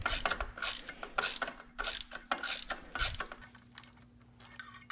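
A ratchet on a long extension loosens a spark plug on a BMW N54 engine, giving a run of loud, close clicking bursts with brief pauses between strokes, then quieter ticks as the plug breaks free.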